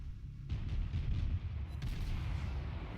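Cruiser guns firing in World of Warships aboard the German cruiser Kolberg, a series of deep, muffled booms rolling over a steady low rumble, no voices present.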